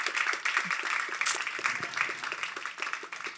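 An audience applauds a panel at a breakfast seminar, a steady wash of many hands clapping that stays fairly even and moderately loud throughout, with no talk over it.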